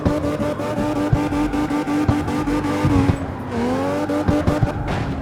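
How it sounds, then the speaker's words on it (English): A heavy V12 drift car in CarX Street doing burnouts, the engine revving hard and steady while tires squeal and skid continuously, with the pitch dipping and climbing again near the end. "Let's do some mad burnouts."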